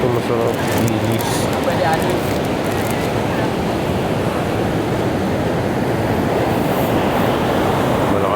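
Loud, steady roar of strong surf pounding the beach at Iba, Zambales, a dense continuous wash of crashing waves with no letup.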